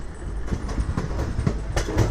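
A special superfast express train runs on the rails, heard from inside a carriage as a loud continuous rumble with rhythmic clickety-clack of the wheels over rail joints.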